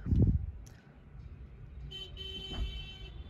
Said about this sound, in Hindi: ये देखो हॉर्न की आवाज आई थी ना